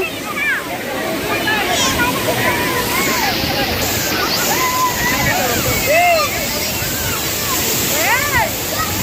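At a waterfall, a boy ducks under the water. A constant rush of falling water carries sloshing splashes, and voices talk over it throughout.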